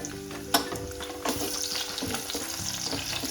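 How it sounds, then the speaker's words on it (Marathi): Long-sliced onion frying in hot ghee or oil for soybean pulao, a continuous close sizzle with a few stirring knocks and clatters, alone without talk. "आता आपण लगेचच त्यामध्ये लांबट चिरलेला कांदा टाकायचा आहे."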